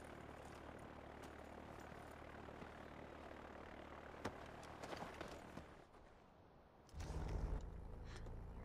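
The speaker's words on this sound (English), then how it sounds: "The one in the plane that's about to take off." Propeller airplane engine in Far Cry 4 droning steadily at moderate distance as it prepares to take off, with a few sharp game sound effects partway through and a louder low rumble swelling near the end.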